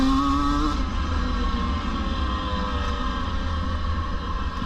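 A 2024 KTM 250 EXC off-road motorcycle ridden over rocky ground, its engine droning loud and close with a steady, slightly wavering pitch throughout.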